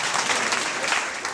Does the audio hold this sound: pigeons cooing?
no